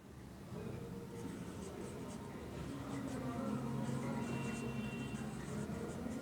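Pen or chalk scratching across a writing surface during a lesson, faint and steady strokes in a quiet room with low background hum.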